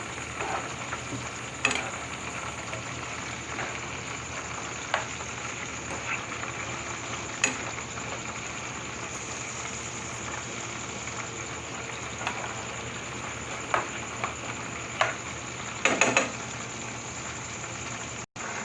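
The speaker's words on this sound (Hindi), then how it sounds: "अब हमारे साथ ही चिप्स तैयार हो रहे हैं। हम इसको ज़रा चम्मच से हिलाएंगे।" Potato chips frying in oil in a pan on a stove, a steady soft sizzle with occasional scrapes and clinks of a spoon stirring them, no talk.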